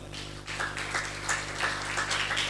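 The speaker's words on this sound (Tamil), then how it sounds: "நல்ல கைத்தட்டுங்க பார்க்கலாம்." A church congregation claps together in a steady, continuous round of applause over a constant low electrical hum.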